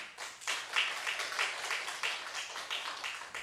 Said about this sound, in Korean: 요즘 전도하는 분들 위해서 영광의 박수 한번 치겠습니다